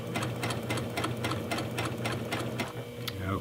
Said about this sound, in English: I'm going to sew right up to where that clip is to make sure everything's still lined up good